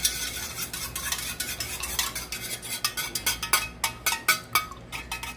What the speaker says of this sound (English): You just kind of give it a stir, you know.